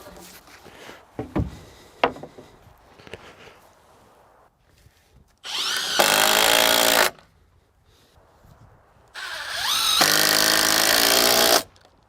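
A handheld power tool drives screws into wooden cabin wall framing in two loud sustained bursts of whirring, with sharper knocks and handling clatter in between.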